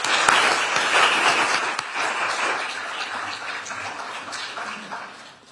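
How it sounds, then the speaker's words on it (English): Audience at an environmental justice symposium at a law school gives a big round of applause, a loud full burst of many hands clapping that gradually tapers off. "Let's give everyone a big round of applause."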